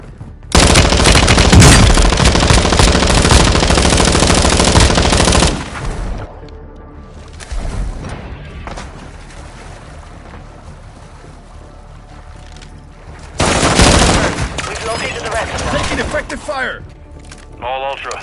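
Light machine gun fire in the game Modern Warfare roars in two long, loud, sustained bursts with a quieter stretch between them, where voices and scattered effects are heard.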